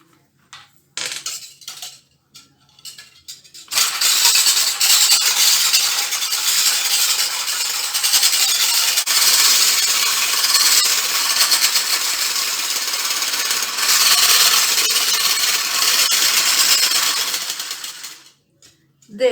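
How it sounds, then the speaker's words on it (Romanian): Fork or whisk beating an egg in a bowl for peanut butter and strawberry pancakes, a fast steady clinking whir lasting about fifteen seconds after a few scattered taps, close and loud. "Putem să începem lucru prin a bate oul."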